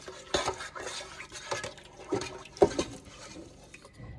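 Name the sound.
stirring pasta salad with brisket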